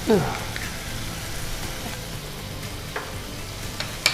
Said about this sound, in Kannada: ಸ್ವಲ್ಪ ಇದನ್ನು ಫ್ರೈ ಮಾಡ್ಕೊಳ್ವಾ